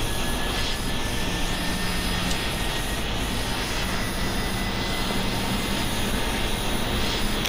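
F-22 Raptor jet engines in a flight simulator game during start-up as they build temperature, a loud, steady broadband roar with a constant whine, continuous and without talk.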